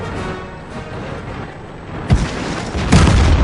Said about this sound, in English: I'm getting hit by artillery as well